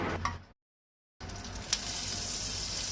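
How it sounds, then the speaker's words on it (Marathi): Four spoons of oil heat in a pan on a gas stove, giving a quiet, continuous hiss and crackle with a brief break partway through and a faint clink. "गॅसीर कायल दवरून 4 चमचे तेल घालता."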